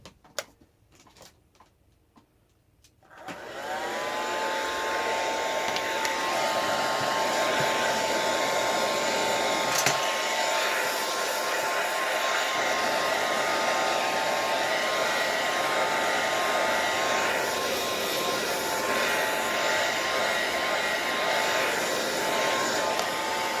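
A handheld hair dryer drying an art journal page switches on after a few seconds of quiet handling noises, then runs with a loud, steady whirring roar to the end.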